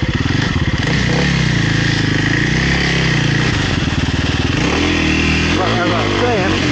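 A Kawasaki KLX300R dirt bike ridden along a trail, its engine droning steadily close by with rising and falling revs, and a rider speaking over it.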